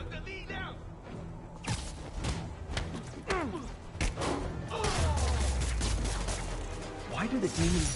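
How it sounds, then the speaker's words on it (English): Gunfire in Marvel's Spider-Man Remastered comes as a burst of sharp shots and heavy thuds, mixed with impacts and game sounds, with voices talking over much of it. "Didn't see the gunfire coming"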